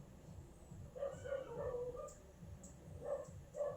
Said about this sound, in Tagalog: mayroong tinatahol yung mga aso sa labas